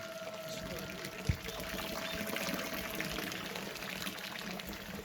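Natural spring water flows steadily into a tank at a Shiva temple, a continuous mid-level rushing and splashing with one brief knock partway through.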